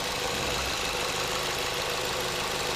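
A 2015 Ford Fusion engine idling, a steady, smooth mechanical hum with broadband noise, close and continuous with no talk.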